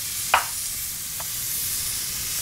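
Butter sizzles in a hot pan of fat left from searing steak, a steady close hiss after one sharp clatter as it drops in, with a faint second tick later.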